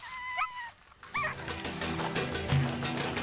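Sled dogs on Ellesmere Island bark and yip in short, excited bursts, with high whimpers between, fairly close and clear against open wind, several dogs calling over one another.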